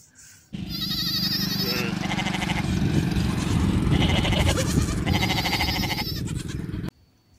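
A toy sheep plays a recorded bleating sound, a loud electronic series of wavering bleats with a ringing, chime-like tone that lasts several seconds before cutting off abruptly.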